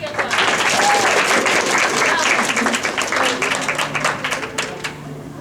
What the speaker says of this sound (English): Round of applause for Yellow.